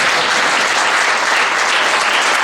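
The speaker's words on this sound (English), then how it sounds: "Yes, that's the claps we want today." Audience clapping at a book launch, a dense, loud, steady wash of many hands filling the whole stretch with no voices standing out.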